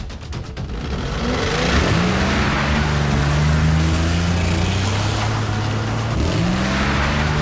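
Cartoon monster trucks race around a turn with loud, steady engine roar and rising revs, several motors droning together close up, with no talk.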